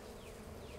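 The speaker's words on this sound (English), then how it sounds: "So we're going to brush the bees away." Honeybees buzz inside an open hive, a faint dense continuous hum of many insects with no speech.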